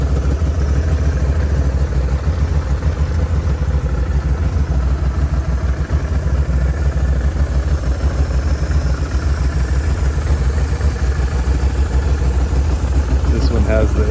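A 2013 Can-Am Outlander 650 Max ATV with a recently replaced primary clutch and belt runs at a steady idle, its engine making a constant low rumble with faint clatter throughout.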